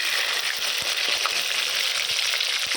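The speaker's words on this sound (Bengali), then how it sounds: "মাছটা উল্টা দিচ্ছি, ভাজা হচ্ছে" A fish fries in a pan in a home kitchen, a loud dense crackling sizzle sustained close up without pause, with small spatters popping through it.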